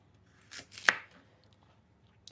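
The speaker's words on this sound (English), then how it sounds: "just going to start by, like I say, dicing this up" A knife chops vegetables on a board for a carrot and cauliflower mash, two or three quick close cuts with one sharp knock, then near quiet.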